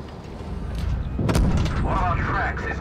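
Tank cannon fire in the game World of Tanks Blitz, a loud booming shot with a sharp crack near the middle, ringing over a steady engine rumble, while a commentator talks over it.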